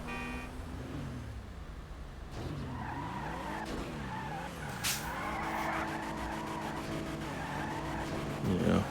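An Annis Minimus car in GTA Online skidding under the handbrake, tires squealing in long wavering whines over a steady engine drone, close and continuous, with a brief louder screech near the end.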